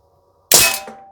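An Umarex Legends M3 Grease Gun CO2 blowback air gun fires a single sharp, loud crack after silence, with a metallic clack of the bolt cycling and a brief rattling tail; nobody speaks.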